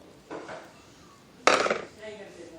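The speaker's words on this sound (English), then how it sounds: "here's my black beans and my corn going in the pot" Canned black beans and corn tumble into a cooking pot for black bean salsa, a soft first pour and then a louder, longer clattering spill with metallic pot resonance, heard close with no talk.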